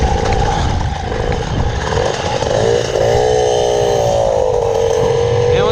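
A Polini 51 moped engine starts and revs, a loud continuous two-stroke buzz with pitch rising and falling as the throttle opens, close by throughout.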